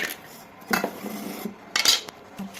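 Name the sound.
roasted sambar powder ingredients put into a grinder jar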